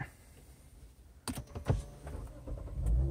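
A 2017 Lexus GS 350 F Sport AWD starting up inside the cabin: a few clicks and a short cranking burst, then a low engine rumble building toward the end, close and quiet.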